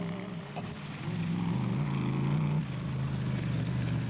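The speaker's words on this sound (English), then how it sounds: "The hills and normally rustic farms of the Lesotho countryside were reverberating to the sound of high-tech deep-voiced engines" High-tech, deep-voiced rally race car engines on rural Lesotho countryside roads during the Lesotho Sun 400, a continuous moderately loud engine drone with a brief rise in pitch before settling, no talk.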